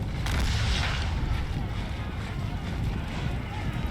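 Artillery fire in an American Civil War video game booms out early, then fades into a loud, rumbling, wind-like roar that lingers across the battlefield.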